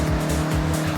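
A Mazda MX-5 sliding sideways in the racing game Forza Horizon 6: a brief, loud tire squeal laid over a buzzing, pulsing engine note.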